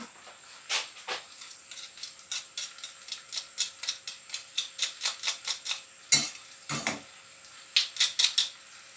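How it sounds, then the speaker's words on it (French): A spoon stirs carrots in a pot for carrots Vichy, scraping and tapping in quick, fairly regular clicks. There are a couple of heavier clanks, and no voices are heard. "On mélange bien le tout"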